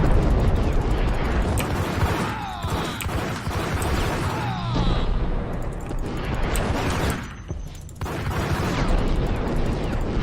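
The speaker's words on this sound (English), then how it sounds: "Oh yeah, I'm just shooting the side" Dense, continuous gunshots in Max Payne, with heavy, crashing impacts blending into a loud, unbroken wall of noise over about ten seconds.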